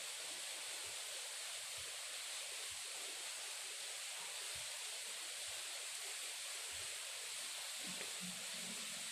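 A creek flows somewhere at a distance, a faint, steady hiss of running water that stays even and unbroken throughout with no other sounds.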